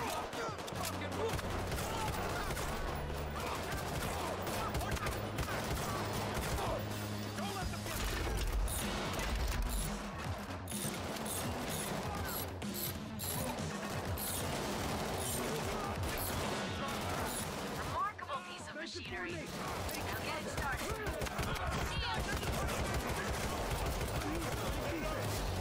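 Dense, continuous gunfire from the video game Payday 3, with rapid automatic bursts and overlapping shots that sound close and loud for the whole stretch, and barely a pause.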